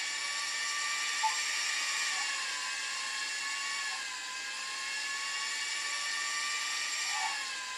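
Slot cars in the Scalextric video game give off a thin, steady high-pitched electric whine that wavers slightly in pitch, faint and without talk.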